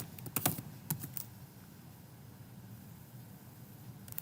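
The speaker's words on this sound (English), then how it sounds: "I'll type my email address again and the email or the password for this." Keystrokes on a computer keyboard, entering an email address and password for a sign-in, come as a quick cluster of close clicks near the start, then a pause and a few more taps over quiet room hiss.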